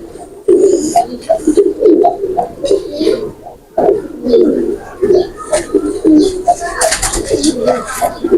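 A blue Pakistani pigeon coos repeatedly in loud, close, throaty bursts with short pauses between them, while voices talk faintly in the background.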